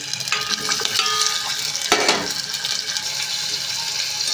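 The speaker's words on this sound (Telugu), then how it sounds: "పన్నీర్ అయితే వేసాను కదండి వేగిస్తున్నాను" Paneer pieces frying in a generous amount of oil for a paneer curry, a steady loud sizzle with stirring and clatter, a sharp burst near the middle, no talking.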